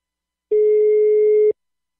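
A single telephone ringing tone during a prank call, one clean steady electronic beep lasting about a second, loud and alone between silence.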